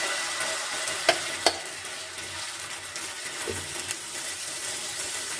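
Ragi batter for a bun dosa spreading on an oiled hot tawa, a steady soft sizzle and crackle with a few sharp clicks near the start, close and alone with no talking.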